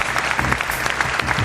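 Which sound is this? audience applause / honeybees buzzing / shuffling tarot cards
audience applause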